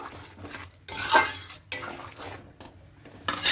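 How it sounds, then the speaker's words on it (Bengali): A metal spoon clinks and scrapes against a pot while moong dal vegetable dal with ghee is mixed off the heat. Bursts of close, bright clatter come with short pauses between them, and there is no talking. "এবার গ্যাসটা অফ করে দেব, খুব ভালো করে মিশিয়ে নেব।"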